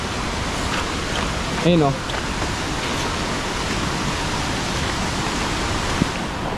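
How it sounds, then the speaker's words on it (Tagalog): Sprite Falls waterfall in Laguna pours with a steady, loud broadband rush close by, while a voice speaks briefly over it. "Papakita ko sa inyo sa harap guys kung gaano kaganda yung ano, yung falls."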